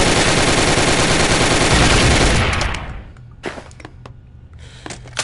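Rapid gunshots from the VR shooting game Gun Club VR, a sustained close, loud stream of fire that stops abruptly, followed by a few isolated sharp shots and clicks.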